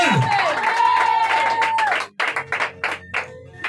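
A church congregation at a presentation of a prophet's future brides bursts into clapping and acclaim after a singing voice, a rhythmic run of claps with cheering rising beneath.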